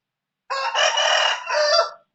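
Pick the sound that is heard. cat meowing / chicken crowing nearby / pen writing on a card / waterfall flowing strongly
chicken crowing nearby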